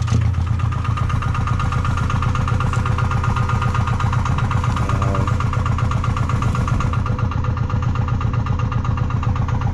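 A small farm tractor with a modified exhaust pipe runs at a steady, loud, close chugging idle while working cassava ridges, a continuous rumble with no voices.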